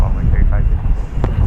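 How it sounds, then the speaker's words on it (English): Viva Aerobus Airbus A320, flight from Guadalajara, moving near the runway at DFW Airport: a low, distant jet rumble buried in steady wind buffeting on the microphone, with no clear engine whine above it. "That's going to be an Airbus A320 here on Runway DFW."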